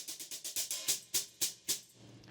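18-inch unlathed AA Sick Hat hi-hat cymbals are struck about ten times in a steady rhythm, each a bright, trashy chick with a short wash, close and fairly quiet, with no voices.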